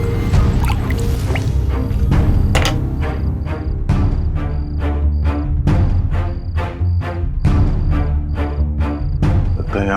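Acid that has pooled at a crime scene in a TV crime drama drips steadily, each drop landing in a regular rhythm close at hand over a constant, loud background.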